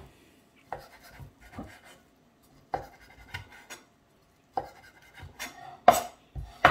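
Knife chopping ham on a cutting board into strips and then small cubes, a series of sharp, close taps in short bursts separated by brief pauses, with no talking.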